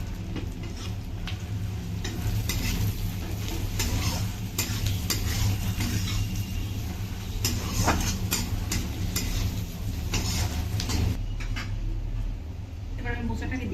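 Banana flower being fried and stirred with prawns, green chillies, salt and turmeric in a pan, a steady sizzle with repeated scraping stirs throughout, close and fairly loud.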